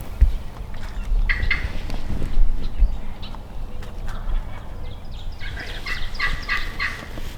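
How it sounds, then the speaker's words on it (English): A wild turkey gobbles in a hunting setting, several rolling gobbles carrying from a distance at moderate loudness over a steady outdoor background. "He was gobbling right at us that time."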